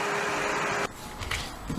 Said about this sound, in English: So put the lid on, and then get your blender.